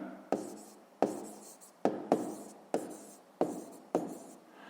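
Pen or pencil writing an answer in a notebook during a sixth-grade maths exercise, heard as a run of about seven quick, close scratchy strokes with sharp onsets, each fading quickly, with no talk over them.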